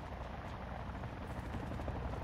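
Helicopter flying in a shooter video game, a steady rotor drone that holds at an even, moderately close level throughout with no voices.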